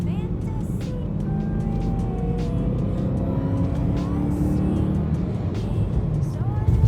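A BMW M3 engine and exhaust rumbles steadily and loudly at close range, a deep continuous drone with a faint rising tone near the end.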